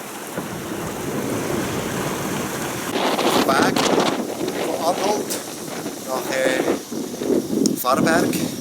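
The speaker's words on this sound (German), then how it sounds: "Wir haben jetzt Windstärke 4 bis 5 aus West und Regen." Force 4 to 5 westerly wind with rain on a sailboat, a constant rushing buffet of wind on the microphone with bursts of gusting; faint voices are heard underneath.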